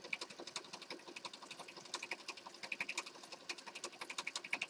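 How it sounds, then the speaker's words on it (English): A sewing machine stitches junk journal pieces together, running in a fast, even train of mechanical needle clicks, close and moderately loud with no talking. "So I just sewed those together and now I've got a pocket here."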